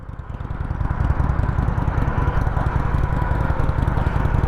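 Motorcycle engine on a beginner's first ride, a steady close throbbing rumble that rises slightly and holds, with no talk.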